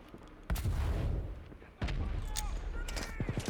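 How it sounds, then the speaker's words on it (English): A flashbang grenade goes off during a WW3 Team Deathmatch match, giving two sharp, loud blasts that each decay into a ringing, rumbling tail, followed by a short burst of rapid gunfire near the end. "Oh, the flashbang works."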